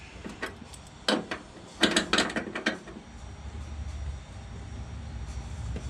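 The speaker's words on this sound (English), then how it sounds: "I'll just take this crescent wrench and just give it a snug in for now" A crescent wrench snugs a battery terminal on a 1979 Camaro, giving a handful of close metallic clicks and scrapes over the first three seconds, followed by a low steady rumble.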